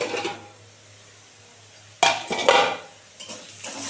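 A lid comes off a cooking pan where potatoes are frying. A soft start gives way to loud metallic clatters and scrapes of the lid and utensils against the pan, with a few more knocks afterward.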